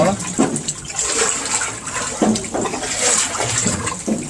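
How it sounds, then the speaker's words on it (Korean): Haejangguk broth with ground ox blood is stirred in a pot, making repeated sloshing swirls of liquid close by with a recurring rhythm, and a voice talks over it now and then. "혼합이 잘 돼야지 되니까 위에 물만 푸면 너무 밋밋하게 되니까 꼭 이렇게 퍼주셔야지 됩니다. 저어주세요."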